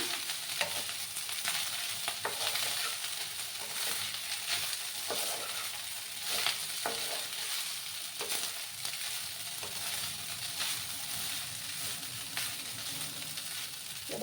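Leftover rice with turmeric is stirred in a frying pan, giving a continuous quiet sizzle with repeated scraping and tapping strokes of the spoon, no voices present.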